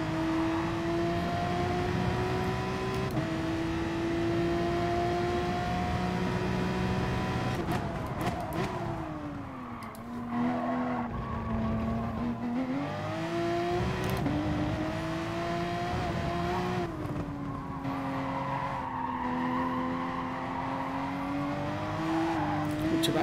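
Race car engine in Gran Turismo Sport, revving hard at a steady high pitch, then dropping and climbing again through shifts as the car slows for a corner and accelerates out, loud and close throughout.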